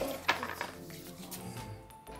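A metal spoon clinks against a container of homemade full-cream yogurt, a sharp close tap followed by a few softer clinks and scrapes, faint and quiet overall.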